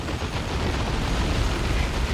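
A Foot of Gork strike in the Dawn of War 2 video game, heard as a dense, continuous rumbling blast with crackling debris that stays loud and close for about two seconds, with no voices.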